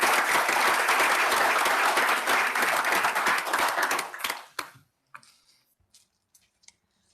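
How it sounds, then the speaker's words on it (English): A board meeting audience applauds the sponsor Chili Pepper with thick, even clapping for about four and a half seconds. It then dies away, leaving a few scattered claps in a quiet room. "So if we can give Chili Pepper a round of applause."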